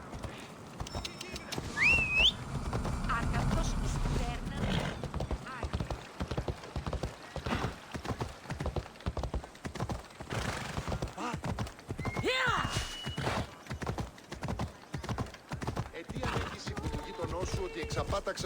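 A horse in Assassin's Creed Odyssey gallops in a fast, regular rhythm of close hoofbeats, with a whinny and snorts early on and spoken voices from the game over the running.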